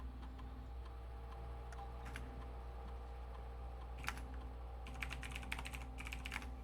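Faint clicks of typing on a computer keyboard come in short sparse bursts over a steady low hum, with a quicker flurry of keystrokes near the end.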